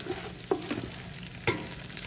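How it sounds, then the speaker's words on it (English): Ground meat frying in fat in a pan for bolognese, a soft steady sizzle with a few spoon scrapes and knocks, close up, with no voices. "You can see it's frying very nicely"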